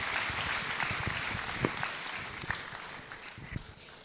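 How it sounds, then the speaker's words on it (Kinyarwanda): A church congregation at an Anglican diocesan ordination ceremony claps steadily, a broad, even wash of applause from many hands heard from within the crowd. "Twongere dukomere Imana yacu amashyi twishimira."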